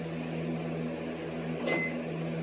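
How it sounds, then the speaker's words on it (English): A household microwave oven that seems to be malfunctioning hums with a steady low electrical drone, with one brief higher whine partway through. "Something is going on with my microwave"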